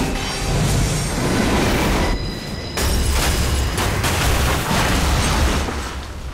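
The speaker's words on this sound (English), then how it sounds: "That was one nasty subway derailment." A subway train derails and crashes in the video game Remember Me, a loud, continuous roar of grinding rails, screeching wheels and rattling metal with heavy rumbling impacts and a brief drop in noise partway through.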